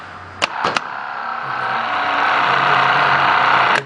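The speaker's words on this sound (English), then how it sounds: "of the starter spinning. Like that." A car starter motor spins against the flywheel in a workshop with a steady, rising whir that holds for a few seconds after a couple of sharp clicks, close and fairly loud, no voices.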